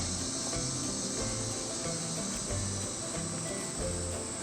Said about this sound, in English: full of locusts.